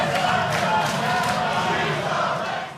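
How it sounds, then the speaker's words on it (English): A TNA wrestling arena crowd chants and roars together during a live show, a loud, continuous, massed vocal din that tapers slightly at the end. "The crowd start chanting she's a racist."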